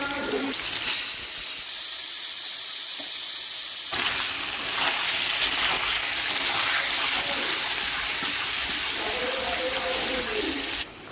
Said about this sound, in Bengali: অল্প করে জল দিয়ে এবার একটা সিটি দেবো।